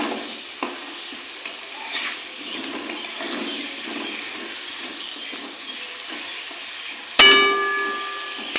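Chicken pieces seasoned with salt and turmeric fry in a pan with a steady, quiet sizzle and occasional stirring scrapes, then a utensil strikes the pan with a sharp metallic clang that rings out near the end.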